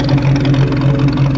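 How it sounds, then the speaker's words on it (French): An old four-cylinder car engine runs steadily at close range, a loud, even drone with a strong low rumble and raw exhaust note, continuous throughout with no voices. "Putain, ça fait un sacré bruit pour un 4 cylindres"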